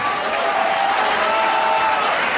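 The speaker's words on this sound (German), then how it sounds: "Meine Damen und Herren, nochmal einen großen Applaus für beide Fighter." Crowd applause at a boxing night at Grosse Freiheit 36 after a six-round middleweight bout, a dense, steady wash of clapping with some cheering, close and loud throughout with no gaps.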